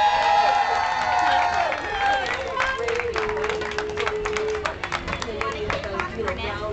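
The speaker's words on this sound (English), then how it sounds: "Let's cheer him on." A crowd cheers and claps in a dense, steady wash of hand claps and voices at a charity head shave, staying loud for the whole stretch with no single voice standing out.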